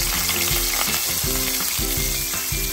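Onions frying in hot oil in a karahi for a spicy chicken wings dish: a loud, continuous close sizzle with bubbling crackle throughout, no voices.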